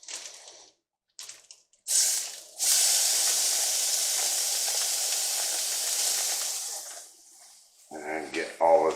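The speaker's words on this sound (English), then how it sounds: "we're going to cook our chorizo" Chorizo frying in a pan gives off a steady, loud hiss of sizzling fat that lasts several seconds, with brief quieter gaps and some handling noise at the start and near the end.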